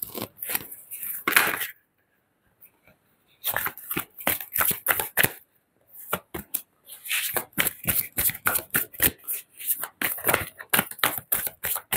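Tarot cards being shuffled by hand up close, in rapid riffling bursts with a short pause after the first burst, then long runs of crisp flicking and slapping, with no talk.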